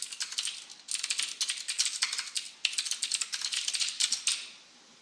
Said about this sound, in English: I really do love the sounds that my keyboard makes.